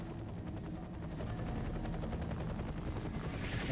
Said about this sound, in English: You should have a visual on the evac chopper.